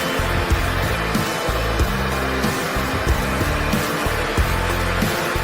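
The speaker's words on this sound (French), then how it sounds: "Allumez le sèche-cheveux à sa puissance maximale et placez la balle dans le courant d'air." A hair dryer runs at full power, blowing ping-pong balls so they float in its airstream, giving a steady, loud whooshing roar with a low motor hum throughout, no voices.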